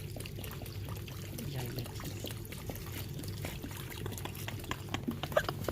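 Two-stroke fuel mix pours into a container in a steady, faint liquid trickle with a low mechanical hum underneath, ending with a few small glugs; a voice speaks briefly.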